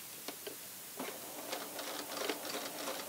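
Sewing machine stitching a knit strip onto a V-neckline at a short 2.0 stitch length, a steady faint mechanical whir with light ticking clicks throughout, no voices.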